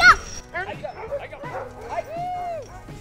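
Retired sled dogs bark, yip and whimper in a busy overlapping chorus, nearby and continuous, while people talk over the noise.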